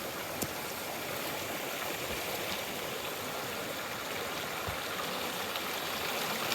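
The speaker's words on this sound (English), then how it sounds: "Beautiful little creek I'm rolling along next to" Small creek flowing beside a trail after nearby rolling thunderstorms, a steady broadband rush and trickle of water, close and continuous with no speech.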